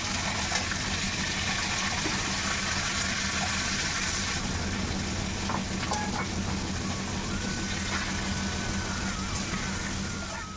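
Curry sizzles in a pan on a gas stove, a steady broad hiss that holds at the same level throughout.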